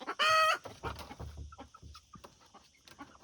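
A hen gives a sharp, loud alarm squawk at the start, followed by quieter scattered clucks and faint bird sounds from other chickens nearby.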